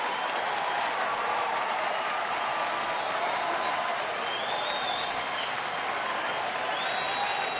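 A stadium crowd of about 24,000 at a ballgame applauds in a broad, sustained wash of clapping and cheering that carries at an even level throughout, with no clear talk on top.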